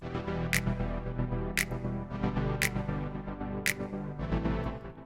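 Sustained layered chords play with sharp finger snaps landing at regular intervals, four crisp snaps spaced about a second apart over the music.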